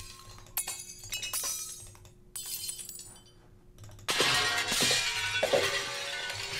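Several ceramic vases smashing, made as sound effects for a top-down action adventure game: a few separate sharp shattering crashes with tinkling shards, the last one loudest and longest, with no talk.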